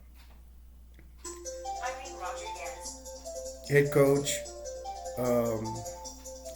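A mobile phone plays a melodic ringtone in the background, its tune rising over a voice as he keeps talking through the ringing.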